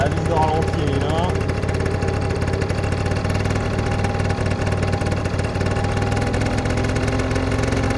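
A scooter engine idling while its idle screw is adjusted, giving a steady, low, buzzing hum close by. A voice briefly talks over it near the start.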